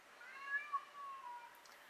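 A cat meowing nearby, one drawn-out wavering meow with a brief rising call, fairly quiet against a silent room.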